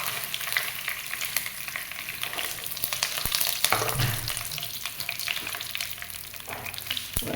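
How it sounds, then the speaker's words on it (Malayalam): Curry leaves frying in hot oil while a traditional Kerala lemon pickle is being made, giving a steady, close crackling sizzle with scattered pops and a few stirring scrapes, no talking. "നമുക്ക് അതിലേക്ക് കുറച്ച് കറിവേപ്പില ഇട്ട് കൊടുക്കാം"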